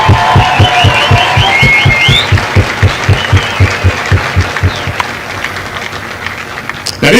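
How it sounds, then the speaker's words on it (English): Crowd applause at a Marine Corps recruit graduation ceremony at MCRD San Diego, rhythmic clapping that starts strong and gradually thins out, with cheering and whoops over it. "would you join me in a round of applause for the Marines who make Marines,"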